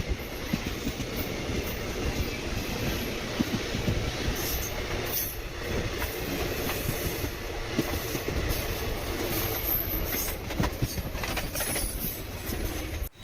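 The Silambu Superfast Express passenger train from Tambaram toward Karaikudi, India, rumbles steadily along the tracks, with constant wheel noise and faint rattling from the carriages, heard from inside.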